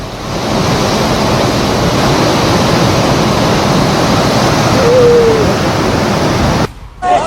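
Floodwater from a river rushes through a village in Bhojpur, Bihar. It roars as a loud, steady broadband wash and sweeps over houses. The noise holds unbroken for most of the stretch, then drops away abruptly near the end.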